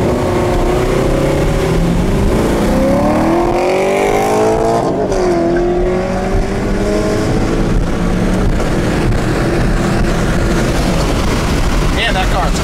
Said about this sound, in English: Damn, that car's quick.